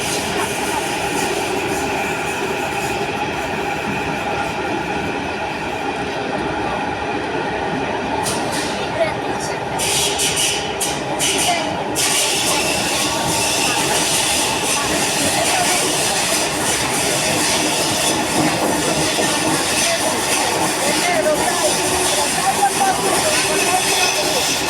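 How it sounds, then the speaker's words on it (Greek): An Athens metro second-generation train on line 2 runs slowly near Syntagma station, giving a steady, continuous rumble and rolling noise throughout with brief higher hissing bursts midway; a person speaks over it. "Εδώ για κάποιο λόγο το μετρό πάει αργά"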